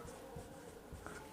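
Chalk or marker scratches briefly across a board in a quiet room while maths is written out, a faint, close, continuous scribbling.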